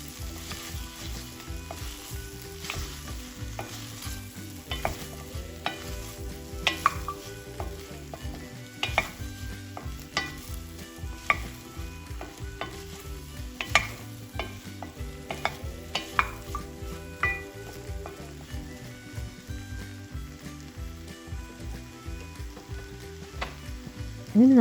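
Turmeric powder stirred into a frying soup base in a pan, with a steady busy sizzle under repeated scraping and clinking stirs of a spoon against the pot throughout.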